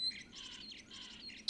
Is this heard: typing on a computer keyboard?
no